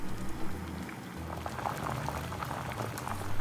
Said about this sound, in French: Prenez une casserole et faites bouillir un grand volume d'eau.